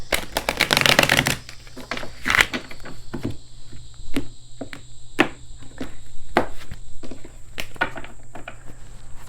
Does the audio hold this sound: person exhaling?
no